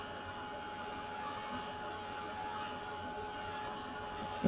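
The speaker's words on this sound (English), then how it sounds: "And I love this dryer of Tim Holtz." A steady, moderate whirring blow of a small Tim Holtz craft heat dryer runs throughout, with a faint bump at the very end.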